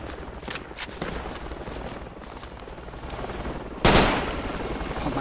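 Gunfire rings out in a World War II game battle around a German barn, with scattered sharp shots and a few distant cracks, then one loud, close blast near the end that fades slowly.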